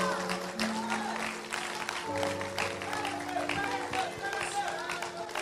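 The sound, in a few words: applause from church congregation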